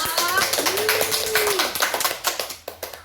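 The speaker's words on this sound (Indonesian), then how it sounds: "Kita kasih tepuk tangan dong" A small group claps for a participant in a classroom-style training session, quick overlapping claps that thin out into a few separate sharp claps, with voices talking over them.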